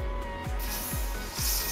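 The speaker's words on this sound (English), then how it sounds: "And give it a spray." A spray bottle of cleaner is pumped three times at an even pace onto a skateboard ball bearing, each squirt a short soft hiss, heard close up over a steady background hum.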